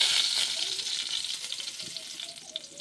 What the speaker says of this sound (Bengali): এবার কড়াইয়ে আবার একটু তেল দিলাম।